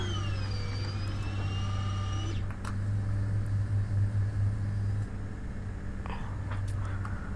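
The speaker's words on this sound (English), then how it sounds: "Gears going up." Landing gear retracting on a Beechcraft Baron in FSX, a rising whine that stops with a soft thump, all over the steady drone of the twin engines.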